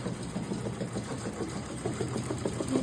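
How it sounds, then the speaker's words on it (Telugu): An embroidery machine stitches a design, giving a steady, moderately quiet mechanical hum with fast rapid ticking of the needle throughout, no speech. "సో ఇంకా అలాగే అక్కడ మిషన్ మీద ఇంకో డిజైన్ అవుతుంది చూడు ఒకసారి."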